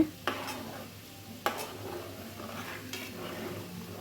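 Butter simmering down into ghee in a pot, a steady low bubbling hiss broken by three sharp scrapes or knocks of a spoon against the pot as it is stirred.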